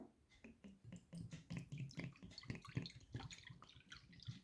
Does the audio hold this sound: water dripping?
yes